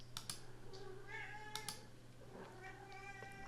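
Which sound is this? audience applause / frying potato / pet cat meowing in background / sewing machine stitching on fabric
pet cat meowing in background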